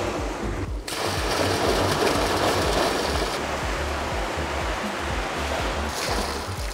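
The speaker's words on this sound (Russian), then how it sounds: "И из дополнительных, так называемых, водных аттракционов водопад, естественно, включается из воды." A waterfall feature at an indoor home swimming pool runs steadily, a dense close rush of falling, splashing water with a low churning rumble underneath and no talk.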